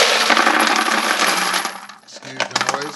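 Brass cartridge cases pour into a Lyman Cyclone rotary tumbler in a bright, dense metallic jingle, close and loud, then thin out into a few scattered clinks as the last pieces settle.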